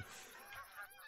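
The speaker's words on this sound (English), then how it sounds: "I have a lot of geese coming in here." Geese honking in theHunter: Call of the Wild, in the Hirschfelden hunting area, a brief burst of overlapping honks from a flock coming in, distant and faint over a windy outdoor background.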